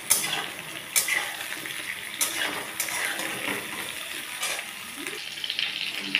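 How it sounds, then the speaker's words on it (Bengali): Pointed gourd and potato pieces sizzle and fry steadily in a pan with onions, with scraping stirs and small clatters popping up over the continuous hiss. "এর মধ্যে আমি পটল আর আলুগুলো এর মধ্যে আমি দিয়ে দিচ্ছি। দিয়ে আমি এবার ভেজে নেব।"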